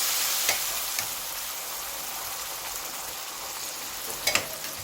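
Beef with pieces of coconut frying in a pan, a dense continuous sizzle close by, with a few brief scrapes and clinks as the food is stirred.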